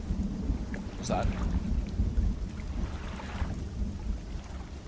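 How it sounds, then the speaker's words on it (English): A low, rolling thunder rumble in the fishing video game Dredge builds and fades over a few seconds, with a brief crackle and wind-like wash on top. "Was that a storm?"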